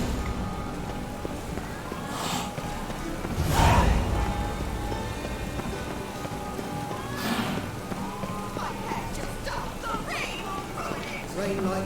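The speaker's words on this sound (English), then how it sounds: "Rain like this will fetch a fortune." Steady rain falling in The Witcher 3, a constant hiss across the scene with a brief louder swell, while voices talk over it.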